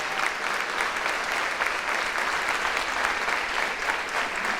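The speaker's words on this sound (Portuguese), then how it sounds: "Vamos aplaudir a esse Deus tão extraordinário." A church congregation claps in sustained, even applause that fills the room for several seconds, loud and with no speech over it.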